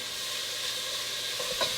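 Bacon sizzles in a frying pan with a steady, close hiss and a few soft pops and crackles near the end; no talking.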